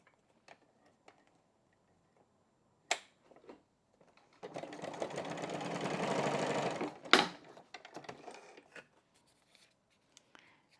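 A sewing machine stitches down scrapbook pages in one steady close burst of rapid mechanical whirring lasting about three seconds, framed by sparse clicks and handling taps in an otherwise quiet room.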